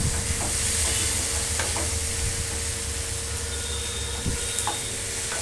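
Ginger frying and being stirred in a hot pan alongside garlic while preparing paneer do pyaza, a steady close sizzle with scraping stir strokes and occasional utensil knocks, no voices.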